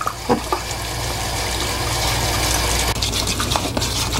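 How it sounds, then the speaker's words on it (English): Water pours from a tap into dental stone plaster in a dental lab, a steady close splashing flow with a few brief knocks and clatters. "Let's add some water to the stone."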